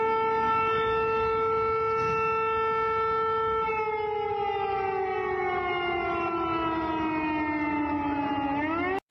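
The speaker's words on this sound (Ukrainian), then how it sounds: "Уже ближче до обіду сирена пролунала у багатьох областях." A civil defense air raid siren wails steadily and loudly, its tone holding and then sliding lower toward the end, with no voices.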